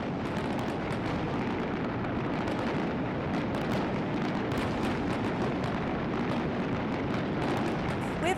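Fireworks shells bursting in a large celebration display, a dense continuous barrage of loud booms and crackles rolling together without pause, no voices heard.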